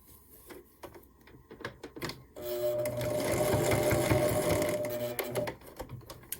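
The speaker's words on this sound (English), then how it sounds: "I'm sewing about 1/8 of an inch seam." Tapping and light handling give way to a loud, steady run of a sewing machine stitching a narrow seam on small quilt pieces for a micro mini Christmas tree, the motor whirring continuously for a few seconds before easing off.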